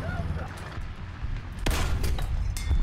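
Artillery fire called in during a War Thunder tank battle: a sharp boom about two-thirds of the way through, followed by a louder, sustained low rumble of shelling over continuous battle background.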